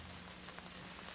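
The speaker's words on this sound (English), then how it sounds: "Still raining out there?" Rain pattering steadily on surfaces outdoors at an evening rock concert in a city park, a soft continuous hiss with faint scattered drop taps and a low hum beneath.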